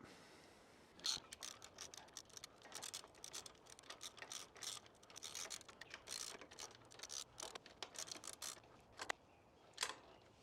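Ratcheting clicks from a nut being tightened onto a bracket of a Kings 270 Tourer freestanding MKII awning, rapid close clicks in short bursts with brief pauses, fairly quiet and with no talking.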